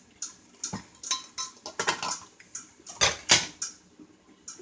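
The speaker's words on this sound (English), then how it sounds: "I can hear my potatoes are starting to click there" Potatoes cooking in a pan make a series of close, sharp clicks and light clatters in an irregular rhythm, about a dozen small bursts over several seconds with no talking.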